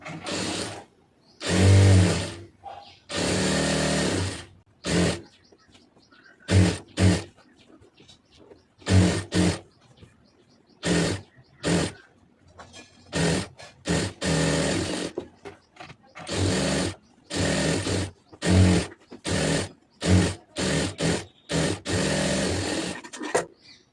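A sewing machine stitches the seam of a cigarette pant in repeated short and long bursts of fast rattling, close and loud, with brief quiet pauses between runs.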